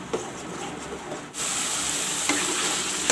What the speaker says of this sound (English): the masala is frying, you can see